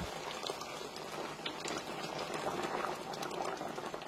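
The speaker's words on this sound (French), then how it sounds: "Une petite eau chaude, on va mettre à peu près 1 litre." Hot water poured into a pot of rich, creamy meat sauce, about a litre, making a steady, continuous watery rush with bubbling that stays even throughout.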